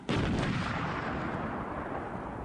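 A single heavy blast from an APOBS mine-clearing line charge set off by a time-delay detonator, starting abruptly at full loudness and rolling on as a dense, broad roar that barely fades, close and with no voices.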